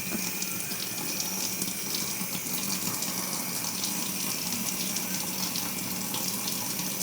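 Beef tripe being washed under a running kitchen tap, a steady, close gush of water splashing continuously without pause.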